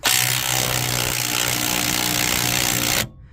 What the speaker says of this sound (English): make sure you always use an impact